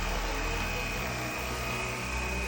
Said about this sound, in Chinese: 帮广东省爱好者测试2台直升机。